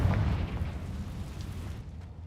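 A Confringo fire spell bursts in Hogwarts Legacy, a single loud, rumbling explosion with a deep low-end boom that fades into a sustained crackling roar over a couple of seconds.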